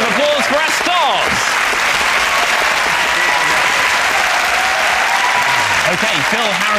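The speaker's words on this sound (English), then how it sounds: "Please join me in a round of applause for our stars." Loud, dense studio audience applause on a music panel quiz show fills the whole span at a constant level, with whoops and voices briefly rising through it near the start and end.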